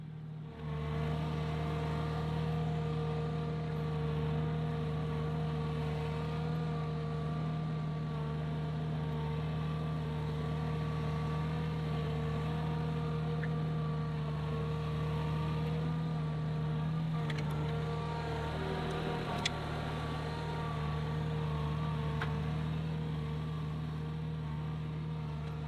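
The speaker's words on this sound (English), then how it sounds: "I also put the box blade on my tractor to help." A Summit TX25 compact tractor fitted with a box blade runs steadily, its engine droning at a constant idle-like pitch for the whole stretch, close and continuous with no talk over it.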